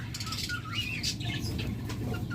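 Green opaline lovebirds kept in a pair for sale flap their wings and give scattered chirps, a soft, busy fluttering with short calls, fairly faint and close by.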